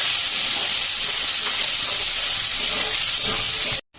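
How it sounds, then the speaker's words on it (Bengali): Melon seeds, cashews, ginger and green chilli stir-frying in hot oil, giving a loud, steady hiss-like sizzle that runs almost four seconds before cutting off abruptly. "চারমগজ, কাজু বাদাম আর হচ্ছে আদা আর কাঁচা লঙ্কা দিয়ে এবার একটু নাড়িয়ে নেব"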